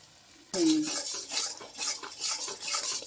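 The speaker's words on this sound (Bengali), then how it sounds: "এটা ভালো করে একটু কষিয়ে নিতে হবে।" Spice paste with whisked yogurt stir-fried in a pan for paneer pasanda, heard as a brief metallic clink followed by rhythmic, close scraping and stirring over a bright sizzle.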